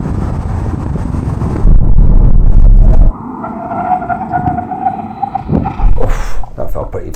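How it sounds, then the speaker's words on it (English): Volkswagen Tayron seven-seat family SUV braking hard from 60 mph, a loud rush of road and tyre noise that cuts off abruptly, followed by quieter cabin sounds as people talk. "So how quickly can this big 7-seater stop from 60 miles an hour?"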